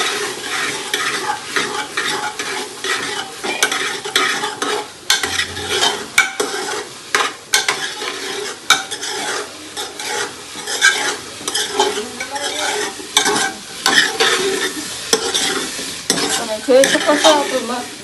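Steady sizzling of vegetables frying in a pressure cooker, with repeated scraping and clinking as they are stirred, close and fairly loud throughout.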